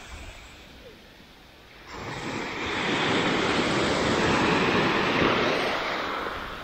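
Sea waves and surf breaking along the Tuscan Riviera coast in winter, a soft wash that builds after two seconds into a loud, broad rushing roar of foam, with some wind, and no speech.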